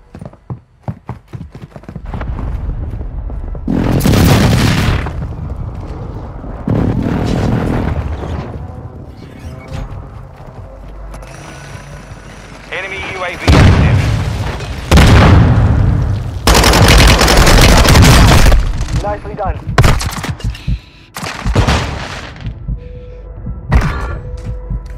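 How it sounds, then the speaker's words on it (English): Hostile airstrike explosions in a military video game: repeated loud bursts of blast and rapid gunfire-like rattling in several waves, with booming low rumble between clusters and no speech. "Hostile airstrike incoming."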